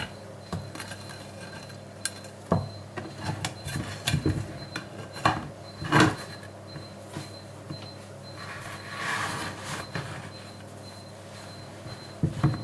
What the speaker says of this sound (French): On va pouvoir le démouler, surtout le démouler à chaud.